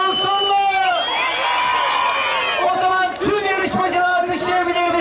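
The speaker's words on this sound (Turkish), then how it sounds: "Gençler arkadaşlarına tezahüratlarla destek verdi" Students cheer, whoop and chant loudly in support of their friends at a school Republic Cup event in Pendik, with a dense crowd roar of overlapping voices throughout.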